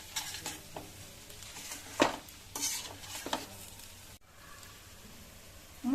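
Ground peanut and sesame powder being stirred into egg curry in a pot, quiet scraping strokes and spoon clinks over a soft simmer.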